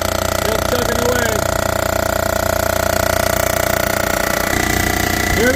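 A machine resurfaces a Ford Ranger 3.0 cylinder head on its final pass, giving a loud, continuous mechanical drone with a steady grinding whir and a slight shift in tone near the end.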